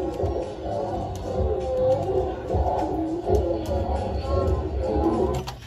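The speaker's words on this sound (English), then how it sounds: "that commotion you hear is a whole bunch of people outside the pool" A large crowd parties at an outdoor pool, with dense overlapping voices and shouting that blend into a continuous, fairly distant roar of commotion.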